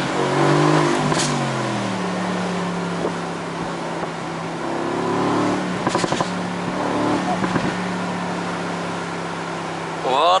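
A 2018 Mercedes-AMG GT C engine hums and rises in pitch as the car accelerates, the tone climbing and settling in sustained waves heard from inside with steady road noise.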